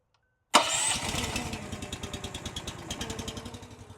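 A log splitter's small engine cranks with the key and catches at once, then settles into a steady, close, pulsing idle with a rhythmic low thump.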